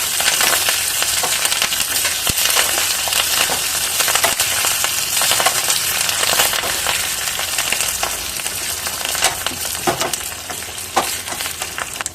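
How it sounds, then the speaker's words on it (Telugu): Dried chillies and curry leaves temper in hot oil for a drumstick-leaf and toor dal sambar, a loud continuous sizzle and crackle with occasional scraping stirs and no talking. "ఇలా ఈ పోపు వేగేటప్పుడు"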